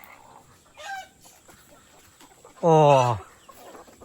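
Chickens on a hillside farm where roosters outnumber hens make a short call, then a louder, strained squawk up close, with a brief spoken exclamation and quiet outdoor background.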